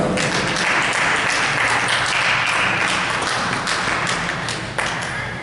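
A church congregation claps loudly and continuously, a dense wash of applause that fades slightly toward the end.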